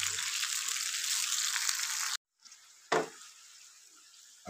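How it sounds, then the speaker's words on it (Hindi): Yogurt and chana daal cook in a pan, giving a loud steady sizzle that cuts off abruptly midway, followed by a short burst of frying and a quieter sizzling tail. "दही का पानी सुखाएंगे"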